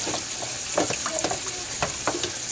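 Enchilada filling sizzles steadily in a frying pan while a utensil stirs it, with scattered scraping clicks over the continuous hiss, close and fairly loud with no talking.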